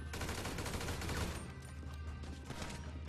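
Rapid gunfire in Grand Theft Auto V, a steady stream of close shots that is strongest in the first second and then continues at a slightly lower level. The volume is low overall.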